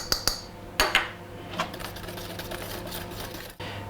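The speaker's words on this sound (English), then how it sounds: "Now I'll beat in the flour." An electric mixer beats flour into egg yolks and sugar, a steady whirring hum with a few clinks of the beaters against the bowl at the start.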